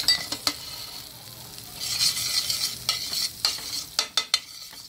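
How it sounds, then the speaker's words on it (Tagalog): Margarine sizzles softly in a pan as a sweet and sour cream sauce is sautéed, with a faint frying hiss broken by scraping spoon stirs and light clinks against the pan. "Ito na po, igigisa na po natin ang ating sweet and sour cream. Ito na po, unahin natin ang margarine."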